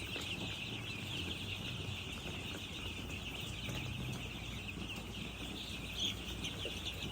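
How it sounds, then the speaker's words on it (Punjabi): Pure-breed desi chickens and chicks cluck faintly amid a steady outdoor hiss and a constant high insect-like drone. "ਦੇਸੀ ਚੂਚਾ ਇਹ ਪਿਓਰ ਬਰੀਡ ਹੈ"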